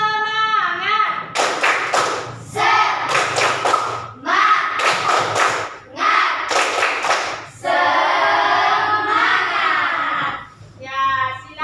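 Rhythmic group hand-clapping routine by a class of primary-school children, several loud bursts of clapping in a set pattern, with children's voices shouting and chanting between the claps.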